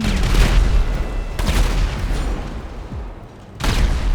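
Fireworks burst in sharp, loud explosive booms, two or three separate blasts with crackling tails and short gaps of quieter ambience between them.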